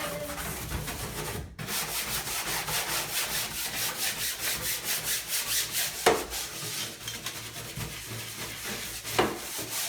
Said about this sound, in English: I just kind of scrub down all of the edges and the bottom